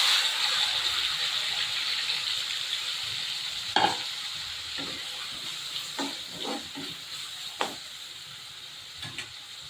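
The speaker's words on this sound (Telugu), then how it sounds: "ఇది ఇప్పుడు గోల్డెన్ కలర్ అయినంత ఫ్రై అవ్వాలి." Onions fry in oil in a kadai, a soft continuous sizzle underlying several distinct scrapes and knocks of a spoon stirring at irregular intervals, close and fairly quiet, with no voices.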